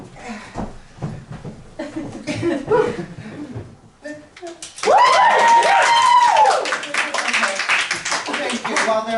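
A theatre audience at a queer Christmas Carol stage production bursts into loud, sustained applause and cheering after a stretch of talk and chuckles, with a voice speaking over the clapping.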